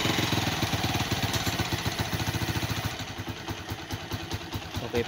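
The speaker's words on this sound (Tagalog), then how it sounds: "Okay pa ang makina niya, ang tunog." A 2010 Honda TMX 155 motorcycle engine idles steadily after sitting in stock for a long time, giving a continuous low, rapid chugging putter that stays loud and close throughout.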